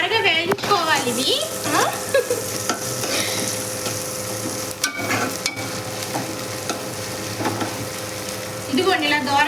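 Ginger garlic paste frying in a pan for a brinjal and dry fish curry crackles in a loud, steady sizzle with spoon stirring, while someone talks over it at the start and end.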